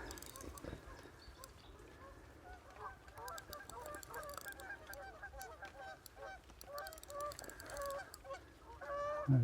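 Geese honk at a distance across a winter carp fishing lake, faint repeated calls that grow more frequent toward the end, with low talk and quiet handling noise close by.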